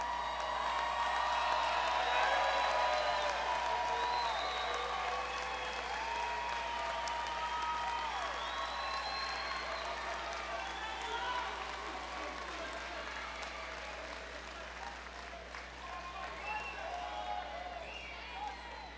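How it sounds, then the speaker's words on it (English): Large crowd at a 2023 university commencement ceremony applauding and cheering, a sustained, roomy wash of clapping with scattered whoops that slowly thins over nearly twenty seconds. "and give them a round of applause."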